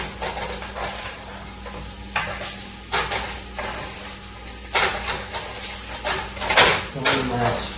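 Country potatoes in an oiled pan sizzle steadily while a spatula scrapes and flips them in several bursts, close and clear, with someone talking between the flips.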